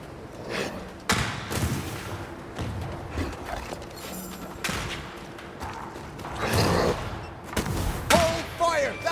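Gunfire at a fort under spectre attack in Banishers: Ghosts of New Eden, with repeated loud cracks and thuds spread through the scene and a voice shouting between the bursts.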